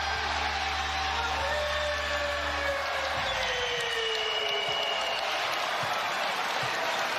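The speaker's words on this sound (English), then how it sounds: "Even the Knicks are applauding." A broad wash of crowd applause at an NBA game, steady and fairly distant, with a low hum underneath at first.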